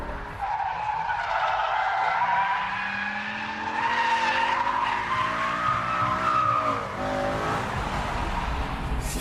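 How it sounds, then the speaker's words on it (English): A BMW M5 E60 cornering hard on a circuit, tires skidding and squealing in long wavering howls over a steady engine note, loud and continuous throughout. "Now lift off the throttle as we dive into the corner"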